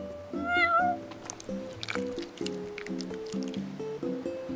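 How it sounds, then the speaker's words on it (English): A cat in Final Fantasy 15 gives a short upward meow near the start over soft game music, with light squishy, drippy eating sounds following. "You're one spoiled cat."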